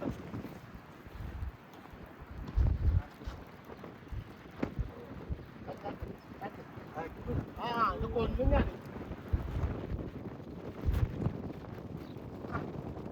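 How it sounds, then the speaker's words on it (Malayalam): Strong gusts buffet the microphone outdoors in the Gulf as rain approaches, arriving in heavy low rumbling bursts between stretches of people talking nearby. "അല്ല മഴ വരുന്നുണ്ട്, കാറ്റ് തന്നെ, നല്ല കാറ്റ്."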